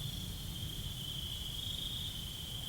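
Crickets and other insects chirp in a continuous, steady high trill, even and unbroken, over a low rumbling background at night in the woods, with no voices.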